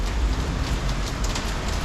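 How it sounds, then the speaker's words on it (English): Rain falls steadily in a narrow Macau alley, a dense close patter of drops with scattered louder splashes and a low rumbling background. "So kind of interesting on a rainy day like today."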